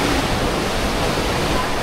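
Strong sea waves surge steadily at Crystal Cove on Boracay island, a dense, continuous roar of surf with no break across the short stretch.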